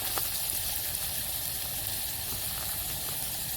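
Chili flakes sizzle in a pan with onions while Maggi noodles cook outdoors on a farm, a soft steady hiss at low level with no speech.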